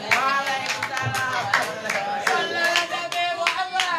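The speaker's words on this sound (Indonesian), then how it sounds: "Beri tepuk tangan kepada para" Applause at an Indonesian Independence Day competition prize-giving event, scattered clapping in a hall running under a talking voice and other background sound.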